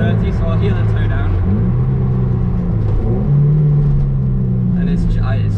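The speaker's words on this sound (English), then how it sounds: "Coming up to a 30, so I'll heel and toe down." Toyota MR2 Roadster with Powerflex rear motor mount, engine droning inside the car during a heel-and-toe downshift, the pitch dipping and rising with a blip of revs, under steady cabin rumble.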